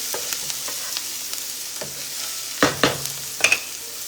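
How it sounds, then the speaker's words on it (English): Onions soften in a pan for jackfruit tacos with a steady, moderate sizzle. Several stirring scrapes and clatters rise over it near the end. "so you all can hear me while our onions are softening"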